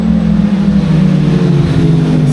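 A Suzuki motorcycle engine passes by at a steady, loud drone with a deep low rumble, heard alone without talk.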